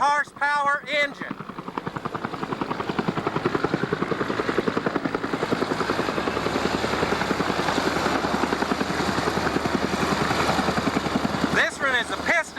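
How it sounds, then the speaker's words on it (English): An agricultural airplane with a 600 horsepower piston engine, at an air show, drones loudly and steadily with a throbbing propeller beat through most of the clip, with brief talk at the start and end. "This one is a piston engine. Many of them are now turbojets, but this is a 600 horse."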